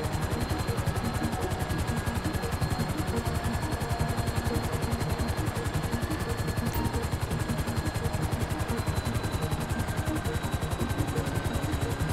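Rapid automatic gunfire rattles down from a hovering helicopter in GTA V, the fast shots blending with the steady rotor chop in a loud, continuous, unbroken stream.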